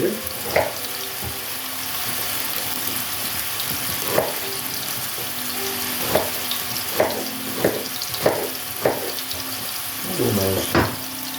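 Meat sizzling in a frying pan, a constant hiss and crackle interrupted by occasional clinks and scrapes of utensils against the pan, close by.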